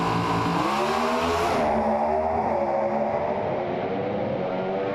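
Drag racing cars idle and rumble loudly on the start line while staging, a dense, continuous engine roar that swells briefly and then settles into a steady, throbbing drone.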